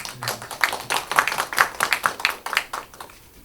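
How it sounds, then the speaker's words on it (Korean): Clapping from a fairly small symposium audience, a loose patter of individual claps running for about three seconds before thinning out, moderately quiet and close. "박수."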